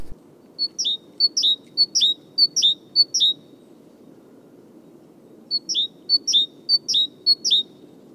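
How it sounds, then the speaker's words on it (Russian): Great tits sing on a sunny late-winter February day, a bright repeated two-note phrase in two bursts of about six notes each, with a quiet pause between and soft background hum, no talking. "И поют большие синицы"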